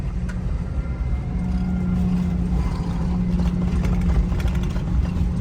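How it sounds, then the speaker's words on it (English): A tractor engine drones steadily, heard from inside the cab while finishing a corn harvest. The low hum is loud and constant and stays close throughout, with no talking. "I'm in the tractor that we haven't put an auto steer in yet"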